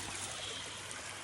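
A river flows steadily in natural surroundings on a summer day, its broadband rushing and trickling water continuous and fairly close, with no talking over it.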